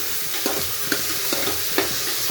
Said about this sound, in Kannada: ಇದು ಟೊಮೊಟೊ ಹಾಕೋಣ. 4ರಿಂದ 5 ಟೊಮೊಟೊ ಹಾಕಬೇಕು.